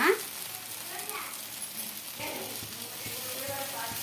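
A dosa roasts on a hot pan with a steady, close sizzle and crackle, faint kitchen clatter and a brief voice heard over it.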